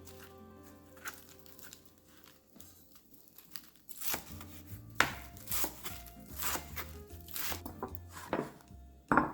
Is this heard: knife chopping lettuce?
yes